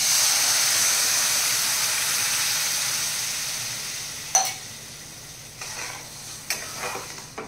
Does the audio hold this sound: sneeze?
no